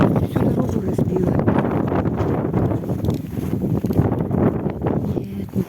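Strong wind in a nighttime snowstorm over a village, where a tractor has been clearing the snow. It makes a continuous, dense, low roar with rough buffeting that never lets up.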